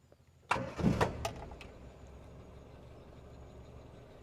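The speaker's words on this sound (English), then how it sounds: "So we're going to start it up." A Hindustan Ambassador classic car engine cranks and catches with a sharp burst, then settles into a low, steady idle; fairly quiet and close.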